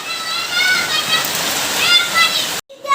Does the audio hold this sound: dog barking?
no